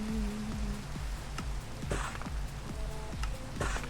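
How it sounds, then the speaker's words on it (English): Steady rain in a video game patters continuously over a layer of dull thumping and clicking noises, dense and close throughout. "Rain was on cue."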